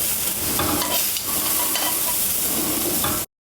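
Shrimp frying in oil in a pan, a loud, dense and continuous sizzle with crackling spatters and stirring sounds that cuts off abruptly.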